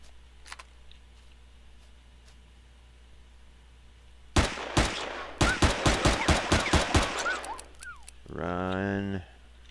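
Gunfire in the video game Empyrion, a rapid burst of about a dozen sharp, loud shots in quick succession, followed by a buzzing, warbling weapon or creature sound, with a player talking over it.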